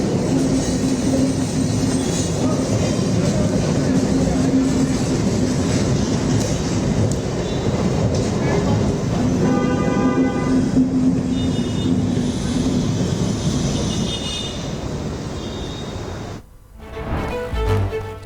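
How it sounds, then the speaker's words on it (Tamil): An elevated suburban train on a high-speed trial run between Velachery and St. Thomas Mount, Chennai, rumbles steadily along the track, loud and close, with rhythmic clacking and a brief squeal before the sound drops away near the end. "வேளச்சேரி மற்றும் பரங்கிமலை இடையே பறக்கும் ரயில் அதிவேக சோதனை ஓட்டம் வெற்றிகரமாக நடைபெற்றது"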